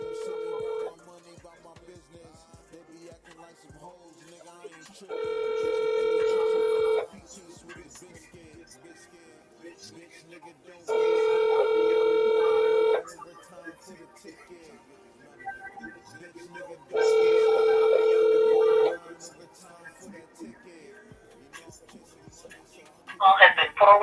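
Outgoing telephone call ringing back three times, each long harmonic ring about two seconds with several seconds of quiet between, clear and fairly loud over low background murmur.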